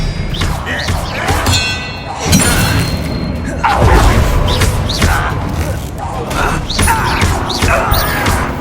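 Casting the Expelliarmus spell in a Hogwarts Legacy duel brings loud, layered magical blasts with metallic clangs, booms and ringing chimes, hitting in repeated waves over a constant battle din.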